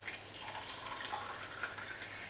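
Hot water from a kettle poured into a small can, a quiet, continuous trickling and splashing stream in an otherwise still kitchen.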